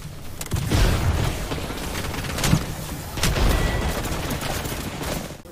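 In a shooter video game, dense overlapping gunfire and booms rattle continuously in loud, rapid volleys with a few sharper peaks, forming a chaotic firefight backdrop.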